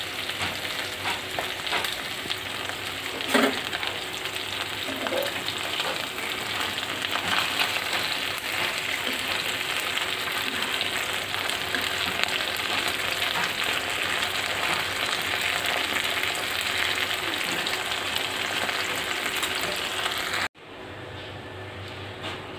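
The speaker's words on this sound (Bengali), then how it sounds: "মাছগুলো এখন আমি হালকা ভেজে নেব।" Taki, shing, pabda, boal and tangra fish lightly frying together in oil, a dense continuous crackling sizzle held close and loud for a long stretch, ending in a sudden drop to quieter sizzling.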